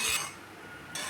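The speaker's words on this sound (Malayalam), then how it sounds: "നമ്മൾ ഇടയ്ക്കിടയ്ക്ക് ഇങ്ങനെ ഇളക്കി കൊടുത്തുകൊണ്ടിരിക്കണം" A spoon scrapes and stirs coconut milk cooking down in a pan to make coconut oil, two short raspy rubbing strokes at either end with a quieter hiss between, close and without talk.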